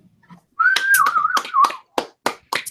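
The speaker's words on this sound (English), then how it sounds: "you get the whistle and the clap." A rising, wavering whistle blows briefly, followed by a run of sharp hand claps at an uneven pace, close and fairly loud.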